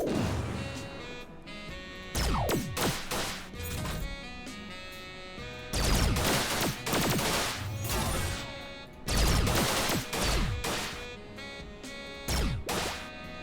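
Missile strikes slam down in the Command Deck strategy game, heavy repeated impacts landing in clustered bursts, loud and close, with a music bed underneath and no talking.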